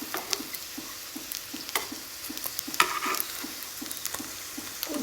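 Momos frying in a pan of oil give a steady sizzle, broken by regular soft knocks and scrapes from stirring, close by and with no talking.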